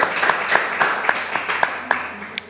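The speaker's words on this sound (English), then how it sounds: "Give her a round of applause." A studio audience claps for a guest arriving on a televised discussion panel, steady scattered applause with sharp individual claps standing out.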